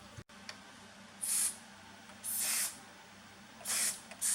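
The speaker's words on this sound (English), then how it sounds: "I'm going to have to spray the keyboard with oil or something" Three short hissing bursts from an aerosol spray can spraying oil onto a keyboard, close and separated by pauses, over quiet background hum.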